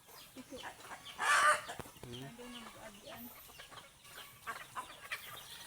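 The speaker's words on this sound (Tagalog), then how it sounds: "Mga ka-idol, maraming manok." Farm chickens at feeding time, a mix of scattered clucks and one loud rooster-like call near the start, with lighter fowl chatter continuing around it at close range.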